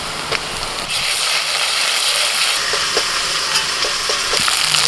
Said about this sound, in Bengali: পেঁয়াজটা ভাজা হয়ে গেছে, আদা রসুন কাঁচা লঙ্কা বাটা দিচ্ছি